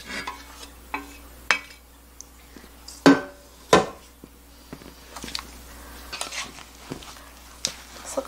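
Oyster kimchi ingredients being mixed in a bowl, with a few sharp clatters and knocks of utensils against the bowl among soft, sporadic stirring and rustling.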